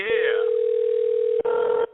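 A steady telephone tone sounds while calling a disconnected, unreachable number, holding one loud, even pitch, breaking off briefly, then resuming before stopping.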